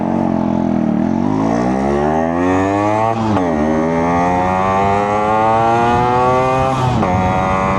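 A Yamaha RX135 motorcycle pulls hard through its gears, its engine note climbing in pitch, dropping briefly at each shift, then rising again. Loud, close and continuous, with no voices.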